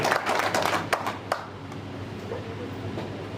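Claps from attendees welcome a guest at a tribal community meeting, with a brief flurry of hand claps that thins to a few isolated claps and then fades into steady low background hum.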